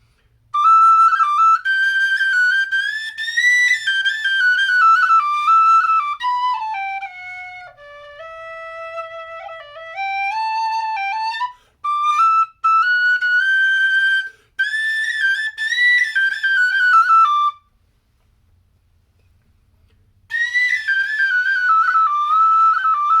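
Loud, bright tin whistle melody from a McManus whistle, clear sustained notes and quick ornaments, playing alone in phrases separated by short pauses.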